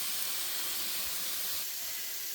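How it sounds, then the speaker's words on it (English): A pot of water heated for cooking rice gives off a steady, even hiss of steam and rolling boil, faint and continuous with no voices. "Water for the rice is boiling up"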